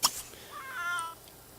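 A single loud, drawn-out meow from a cat in The Sims 3 game follows a brief sharp click at the start, then fades into quiet.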